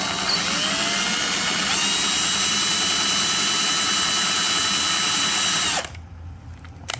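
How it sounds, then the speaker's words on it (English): A power drill running in reverse with a small bit on a guitar's lacquer finish whirs loudly and steadily for several seconds, then cuts off abruptly, leaving a quiet room with faint clicks. "we're going to take our drill with our small bit"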